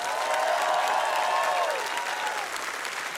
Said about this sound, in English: Please give a huge round of applause to Paul Williams.